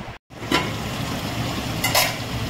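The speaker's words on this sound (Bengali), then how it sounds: "দেখো, উচ্ছে কুমড়ো ভাজা বসিয়েছি।" Bitter gourd and pumpkin pieces frying in a home kitchen pan, a steady faint sizzle with occasional soft stirring scrapes, no talk.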